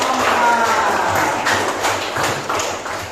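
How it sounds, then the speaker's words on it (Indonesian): Classroom applause for group 4 after a cooking presentation, a brisk rattle of many students clapping together, fairly loud at first and tapering toward the end. "Tepuk tangan untuk kelompok 4."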